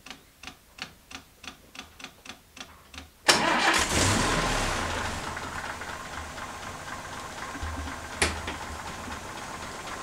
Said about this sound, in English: The next thing we can do is check that the engine fires up, so we'll just give that a go now.